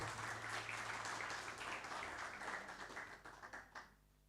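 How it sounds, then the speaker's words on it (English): Audience applause at an indoor national seminar on religion and law, a dense wash of clapping that holds steady and then thins out and tapers toward the end. "I will invite you to give big round of applause to distinguished speakers"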